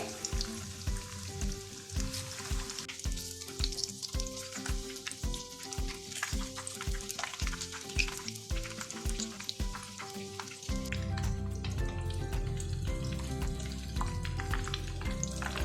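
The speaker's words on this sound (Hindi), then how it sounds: "अब इसमें मैं डोनट ऐड कर दूंगी। मीडियम आंच पे फ्राई करेंगे।" Chicken donuts fry in hot oil over medium heat with a steady close sizzle and crackle. Stirring taps and scrapes sound near the start, and the frying turns fuller and louder partway through. Nobody speaks.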